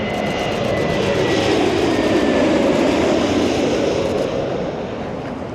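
An aircraft passes close by at an airport, a loud steady roar of engine noise that swells and then eases slightly as it goes past.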